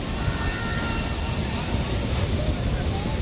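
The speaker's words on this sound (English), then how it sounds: "Now here's the Knott's Berry Farms train." A Knott's Berry Farm theme-park train rumbles past close by, a loud, continuous broadband roar that holds steady with no breaks throughout.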